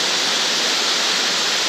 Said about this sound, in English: We're still on waterfall number 2.